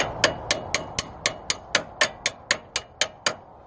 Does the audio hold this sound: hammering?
yes